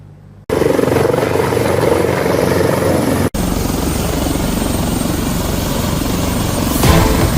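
A loud, close Indonesian Air Force helicopter drones continuously with a heavy rotor thrum, briefly cutting out once before resuming just as strong, during flood and landslide evacuations.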